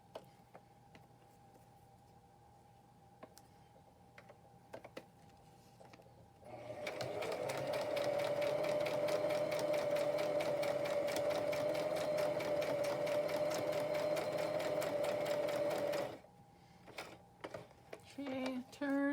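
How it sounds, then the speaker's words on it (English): A sewing machine stitches a straight line along the bottom edge of a DIY ephemera piece in a steady, close whirring run of about ten seconds, framed by soft handling clicks and rustles. "I think I'm going to switch and do a straight stitch along the bottom."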